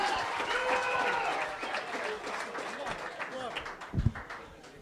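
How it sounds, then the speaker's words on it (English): Comedy club audience applauding and cheering after a stand-up comedian is introduced, dense steady clapping filling the room with some shouts, swelling briefly near the end. "Please give me some love for Ammon Brown, everyone"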